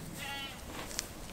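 A goat bleats once, short and wavering, as it is held in a new head gate during doctoring. The call is fairly close but quiet over a background of faint rustling.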